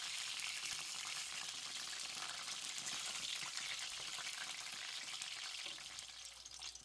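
Hot oil sizzles and crackles steadily as dough pastries (biliashi) fry, a dense close-up hiss that softens slightly near the end.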